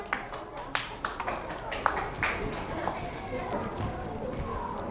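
Scattered clapping from a small group of students and teachers at an open class, sparse and uneven sharp claps under ongoing chatter and background talk.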